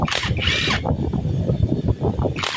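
A Honda CB125 motorcycle engine runs noisy and rattly in a workshop, a steady close mechanical clatter with bursts of higher whine at the start and end, no talking.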